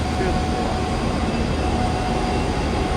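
A train pulls into a station in Northern Ireland, giving a loud, continuous rail rumble with faint wheel squeal throughout.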